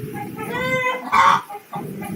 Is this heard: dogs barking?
no